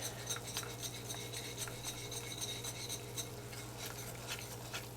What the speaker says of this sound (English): I'm going to keep whisking, whisking,